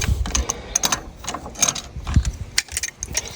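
Fittings on a boiler pump are tightened by hand during a pump swap, producing close metallic clicking, ratcheting and clinking in a busy irregular stream.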